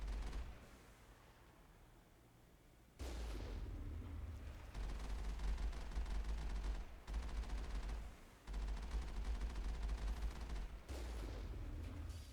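Sustained bursts of Mass Effect gunfire, a quieter opening rumble giving way to loud, dense rapid-fire volleys broken by brief pauses, heavy low-end thump throughout, no voices.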